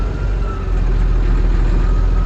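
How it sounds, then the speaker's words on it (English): A loud, steady tractor engine rumble on a sheep farm, constant and close, with no other sounds standing out. "I just get to drive tractor now."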